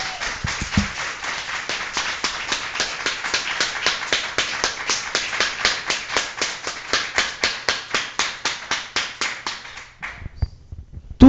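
A church congregation claps in unison in a fast, steady rhythm for about ten seconds, loud and close, each clap sharp and evenly spaced, before it stops abruptly.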